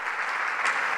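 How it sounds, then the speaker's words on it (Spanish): A church congregation applauds loudly and steadily throughout, a dense wash of clapping with no gaps. "Aplaude fuerte al Señor."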